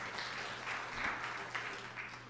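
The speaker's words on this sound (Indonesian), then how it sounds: "Tepuk tangan yang meriah untuk kemuliaan nama Tuhan." A church congregation applauds steadily at a low level, a dense and even patter of clapping across the short stretch with no talking.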